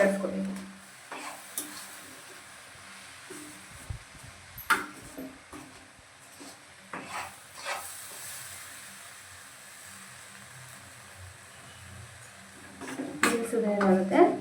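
A spoon scrapes and clinks against a pan while rava laddu mixture is stirred over a low flame, with intermittent soft clatters and a louder burst of scraping near the end, under occasional talk.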